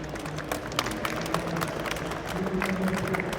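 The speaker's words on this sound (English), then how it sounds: "Give them a big round of applause" Crowd applause at a live event at the NEC, steady dense clapping with a roomy, continuous texture and a few sharper claps standing out.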